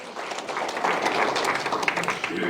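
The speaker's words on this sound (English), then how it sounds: "let's give him another round of applause because he wants to learn about it" An audience at a spring summit gathering gives a round of applause, scattered clapping that builds from quiet to a moderate, steady patter over a couple of seconds.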